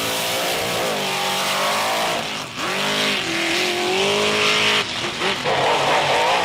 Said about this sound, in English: all that big 572 cubic inches of Ford horsepower puts the Hollywood Hulk Hogan into the next round